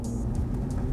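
A stock 1995 Efini RX7 twin turbo engine pulls hard at high revs from inside the car, a loud, steady rotary drone in one brief burst.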